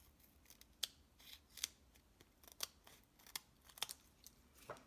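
Scissors snip paper strips for a handmade card, a run of crisp, separate cuts at an uneven pace, close and fairly quiet.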